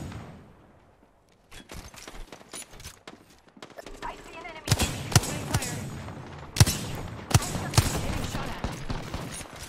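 Wingman pistol shots in the battle royale game Apex Legends, sharp separate cracks spaced out, then heavier and louder firing in the second half, with a player talking over the fight.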